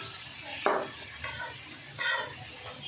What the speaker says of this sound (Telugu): మటన్ వేసుకొని మంచిగా కలుపుకోవాలి తాలింపులో